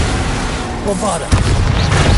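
A Bombarda blasting spell exploding in a Hogwarts video game: a dense, loud, rumbling blast fills the short clip, with a sharper burst partway through.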